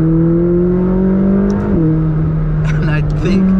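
McLaren 600LT supercar engine holds a steady loud drone, briefly dipping and rising twice as the revs shift, with a person talking over it.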